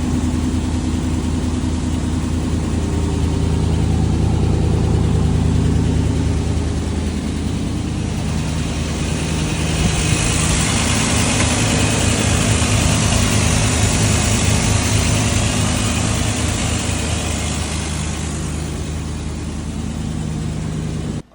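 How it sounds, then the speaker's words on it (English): A 1987 Chevy C10 pickup, sitting abandoned for over ten years, runs after being fired up, its engine idling with a steady low rumble and a strong hum, loud and close, with no voices. "We cranked it up, fired it up,"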